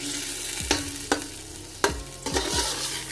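Ginger garlic paste fried and mixed in a pan for chicken pulao: a continuous hiss of sizzling oil broken by four or five sharp spatula scrapes and knocks against the pan, close by, with no voices.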